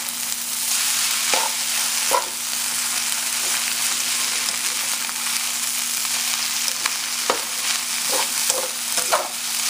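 Pad Thai vegetables, including Chinese green beans, are stir-fried in a wok on high heat: a steady close sizzle broken by several sharp scrapes and taps of the utensil against the pan, with no talk.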